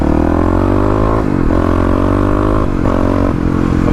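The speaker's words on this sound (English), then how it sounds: "we can go ahead and practice some more wheelies" A Kawasaki KLX351 dirt bike engine during wheelie practice, loud and close, droning steadily with a couple of rev dips and swells as the throttle is worked.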